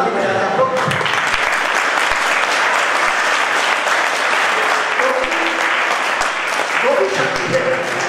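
An audience at a healing session in a Jaipur ashram for disabled people breaks into sustained, dense applause that holds loudly for several seconds, with voices mixed in.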